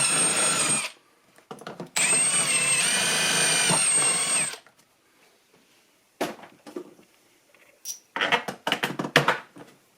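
A power drill bores two holes into a Packout dolly mount, in two loud sustained runs with a pause between, followed by scattered clattering and tool handling.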